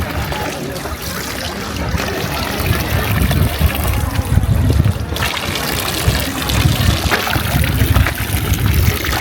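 Mountain spring water trickling in the Swiss mountains, a close, loud and continuous splashing flow with gurgling texture throughout, with some rustling and handling noise mixed in.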